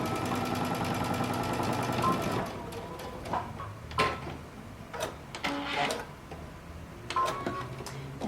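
A sewing machine stitches a 5/8 inch seam along a cape facing, its fast rattling hum running for about two seconds before stopping, followed by scattered handling clicks and knocks at close range.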